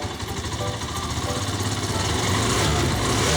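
A Honda TMX motorcycle engine runs steadily after a carburetor cleaning, a close, buzzing single-cylinder idle that holds even and grows slightly louder toward the end.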